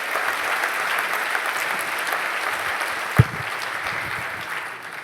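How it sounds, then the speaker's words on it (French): Audience applause at a talk, steady and dense for the full stretch, with one sharp knock or thump cutting through near the middle before the clapping thins slightly toward the end. "Je pense qu'on pourrait quand même l'applaudir"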